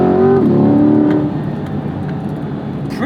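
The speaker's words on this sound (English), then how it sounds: "Pretty immediate gear shifts, very smooth." A 2021 Corvette C8 Z51 accelerates hard under manual shifting, its engine rising steadily in pitch, then dropping sharply at a quick gear change before pulling again, loud and close with a continuous droning roar.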